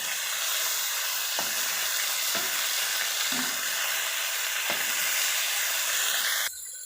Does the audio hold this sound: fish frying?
yes